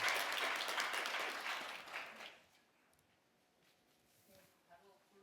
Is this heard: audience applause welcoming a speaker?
yes